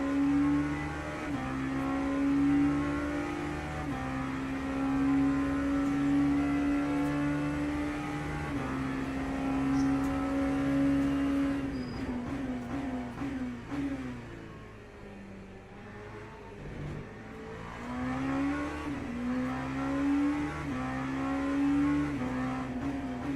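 LMP2 prototype race car engine in the Le Mans Ultimate sim, a steady high droning whine held through long stretches with shifts in pitch, dipping as it slows midway before climbing again through the gears.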